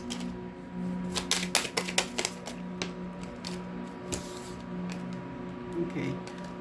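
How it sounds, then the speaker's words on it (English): A deck of tarot-style cards being shuffled by hand, quick riffling clicks and snaps in bursts, fairly close and quiet, with a few soft taps afterward. "let me shuffle these again"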